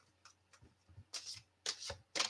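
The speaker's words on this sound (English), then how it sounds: "I'm shuffling" A deck of playing cards shuffled close by in several quick riffling bursts, each a crisp papery flutter, with short pauses between and no voices.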